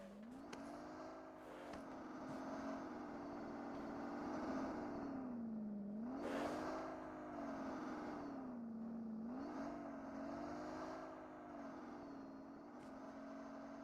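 A player's vehicle circling in a 1v1 esports battle royale match, its engine droning steadily with a harmonic whine that dips and rises on each turn, close and continuous.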